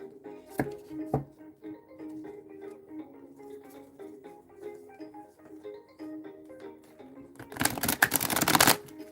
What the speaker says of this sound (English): So I am gonna shuffle out this deck.